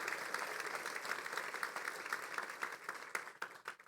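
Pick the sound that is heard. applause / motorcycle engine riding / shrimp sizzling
applause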